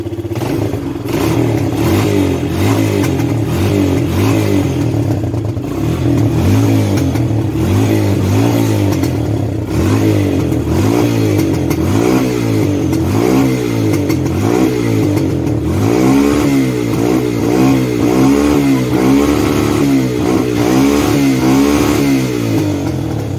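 A heavily smoking engine revs repeatedly, rising and falling in loud rough surges that continue without a break, close up.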